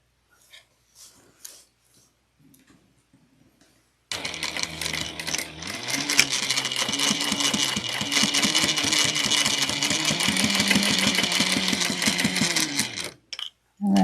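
A sewing machine runs steadily for several seconds, stitching fabric for a clutch wallet. Its fast, even mechanical whir is close and loud. A few quiet handling sounds come before it, and it stops abruptly at the end.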